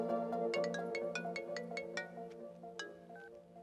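A phone ringtone for an incoming call plays a quick melodic run of bright, repeated tones, fairly quiet and steady over a few seconds.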